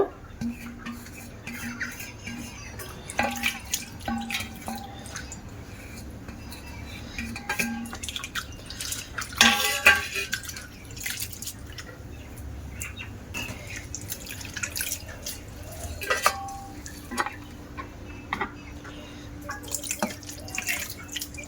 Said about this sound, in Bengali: এবার আমি পরিষ্কার জল দিয়ে ধুয়ে নেব